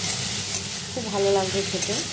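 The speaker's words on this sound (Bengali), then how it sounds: "দেখুন মুলোগুলোও ভাজা হয়ে গেছে" Radishes and their greens fry in a pan with salt and turmeric, giving a steady close sizzle while a utensil stirs them, and someone speaks briefly over the cooking.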